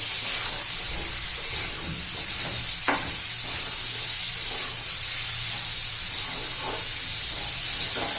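Carrots sautéing in a pan while being stirred for about a minute, a steady low sizzle with occasional scraping stir strokes, close and continuous, no talking.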